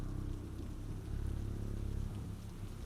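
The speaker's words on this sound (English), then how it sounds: "Today I'm literally reading these stories while it's raining outside." Steady rain falls outside as a soft, continuous low patter and rumble, faint and unbroken, with no voices.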